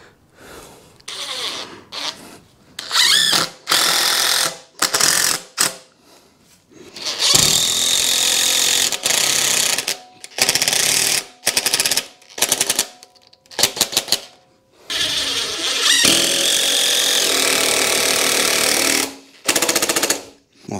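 Power tool driving 2.5-inch SD structural screws into metal connectors on wooden posts for a chain harrow storage post; repeated loud bursts of impact-driver rattling in short and longer runs, with brief gaps between screws, no talk.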